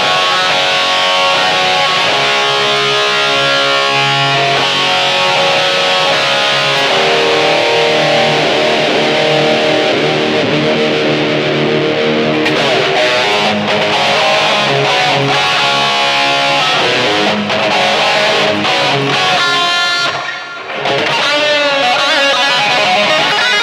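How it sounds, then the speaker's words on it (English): A distorted electric guitar tone played through a BOSS eBand JS-10 with reverb set to 72 rings out in sustained riffs and chords, dense and loud with a long reverberant wash behind the notes. "I put the reverb level at 72, but it's a little bit too reverbery, or too much reverb"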